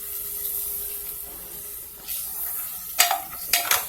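Vegetables and sausage shift around a hot pan, a soft sizzle building as utensil scrapes and clatters against the pan land in short bursts near the end.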